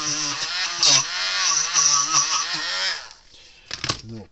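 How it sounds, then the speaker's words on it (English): A Dremel rotary tool fitted with a wire wheel cleans a Kencove electric fence charger part, giving a loud, steady buzzing whine for about three seconds before it cuts off, followed by a few scattered clicks and knocks. "Use a Dremel with a wire wheel on it."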